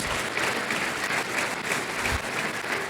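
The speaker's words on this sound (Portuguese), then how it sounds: "Dá um aplauso aí para quebrar esse silêncio, por favor." A church congregation applauds with steady, moderately distant clapping that holds through the whole stretch without letting up, and no voices rise above it.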